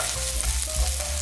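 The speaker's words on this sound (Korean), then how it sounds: "버터가 골고루 퍼지면 준비된 양파를 넣어줍니다." Onions fry in melted butter in a frying pan, giving a close, continuous crackling sizzle over a low background hum, with no voices.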